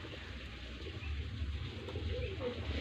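Teddy golden pigeons coo softly in a quiet, low murmur, with a faint voice nearby.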